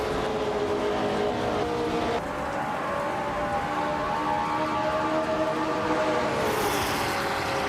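A steady, dense engine roar from a field of racing cars at the start at Autosport Speedway, a vintage 1966 McLaren M1B on pole among them, sustained and loud throughout with shifting tonal whines, no voices.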